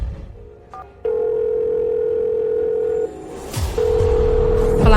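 Phone call tones: a short dial beep, then a long steady tone, a brief break, and another sustained tone, loud and close with a faint rustle, as a call goes to a switched-off number.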